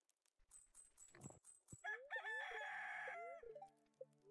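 A rooster crows in the farming game Stardew Valley, a clear cock-a-doodle-doo rising over soft clucks and small game sounds, fairly close and otherwise alone.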